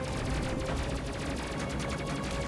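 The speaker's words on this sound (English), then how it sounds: "The missiles do seem to be hitting every once in a while" Missiles striking in the space combat game Space Crew, a dense, continuous barrage of rapid crackling impacts like sustained gunfire, loud and steady throughout with no talk.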